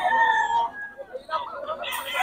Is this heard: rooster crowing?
yes